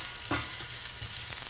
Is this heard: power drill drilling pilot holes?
no